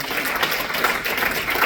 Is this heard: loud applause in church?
yes